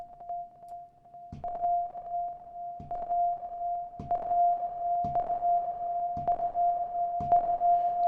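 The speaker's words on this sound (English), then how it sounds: "the less you're gonna hear as well this delay kind of echoey effect" A steady sustained tone runs throughout while short percussive hits arrive about once a second, each trailed by a dense, smeared delay-like echo tail from Ableton Live 11's Hybrid Reverb, with no talking.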